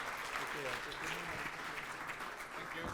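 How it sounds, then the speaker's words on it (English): A conference audience claps to welcome people, a steady bed of applause lasting the whole few seconds, with a voice speaking over it. "Let's welcome them with an applause"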